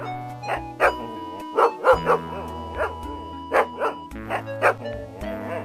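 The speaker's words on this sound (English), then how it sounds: "Careful. This dog is unfriendly." A dog barks in the Police Quest 4 video game, with a run of about a dozen short, fairly loud barks and yips in irregular bursts, set over steady game music.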